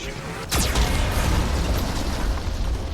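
Geth cannon blast in Mass Effect 2, a sudden booming impact followed by a dense sustained roar of rumbling noise, loud and close.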